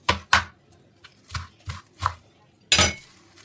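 A knife strikes a board in a home kitchen while fenugreek, spinach and coriander greens are cut; the sharp thuds are spaced and irregular, about seven in all, with one louder hit near the end.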